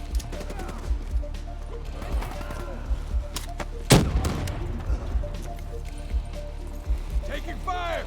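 Gunfire in the video game Call of Duty: Black Ops III, with scattered distant shots and one loud sharp blast near the middle, over a constant low rumble of battle ambience.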